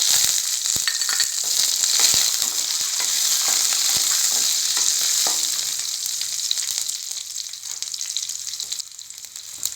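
Small onions fry loudly in hot oil with popped mustard seeds for a bitter gourd tamarind curry, a steady dense sizzle with occasional stirring clicks, alone and close.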